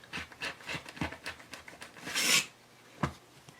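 Trimming quilted fabric lining with a ruler and rotary cutter while sewing a caddy, close rasping strokes and soft scrapes in an uneven rhythm, with one longer harsh swipe near the end.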